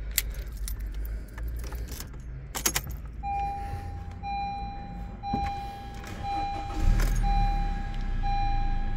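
A 2020 Honda Civic LX with a 2.0 Flex engine and automatic CVT: keys jangle close up, a repeating dashboard chime beeps, then the engine turns over and settles into a low, steady idle rumble.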